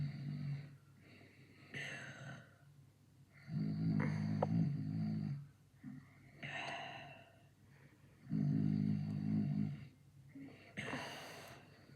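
Snoring sound effect with slow rhythmic snores, about three long rasping inhales spaced evenly with quieter breaths between, fairly faint and alone without talk.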